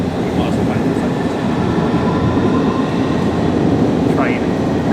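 A long train rumbles past close by, a dense continuous roar of wheels and cars with faint squeals and rattles riding on top, holding steady throughout.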